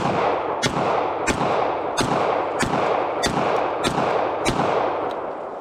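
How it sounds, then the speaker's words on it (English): Shots from a Swiss P49 / SIG P210 pistol fired at an outdoor range, about eight sharp reports spaced roughly evenly over a steady, loud background roar. "It's a very smooth shooting pistol"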